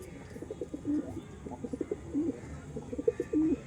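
Pigeons coo in soft, repeated low calls close by, a green-tinted bird among them, with no talking over the sound.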